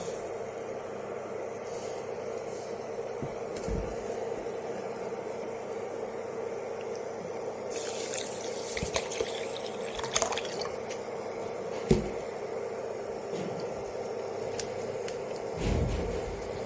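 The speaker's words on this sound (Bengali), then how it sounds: "প্রথমে আমি ডালটা ধুয়ে নেব।" Moong dal being rinsed in water in a home kitchen, with soft sloshing, squishing and scattered drips over a steady faint hiss, a few sharper splashes near the end, and no talking.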